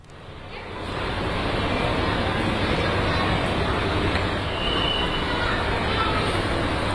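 Train at Pasar Senen station in Jakarta during the New Year holiday return rush, a loud, sustained rumble and roar of rolling wagons with faint squeals, building in over the first second.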